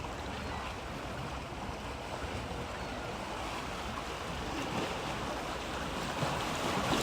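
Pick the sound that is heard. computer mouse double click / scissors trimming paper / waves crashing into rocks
waves crashing into rocks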